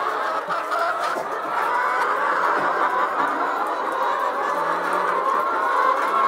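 Chickens at a chicken farm clucking in a continuous dense chorus of many birds, steady and moderately loud throughout.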